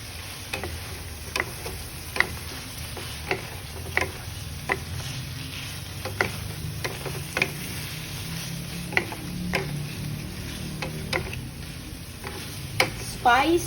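Spicy chicken bites fry in a pan with a steady hiss, and sharp utensil clicks against the pan come every second or so.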